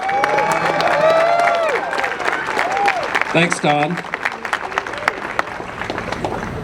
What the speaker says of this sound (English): so give him a nice round of applause.